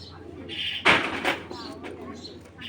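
Racing or club pigeons, a breeding pair, coo softly nearby under someone talking, with a louder flutter-like burst partway through.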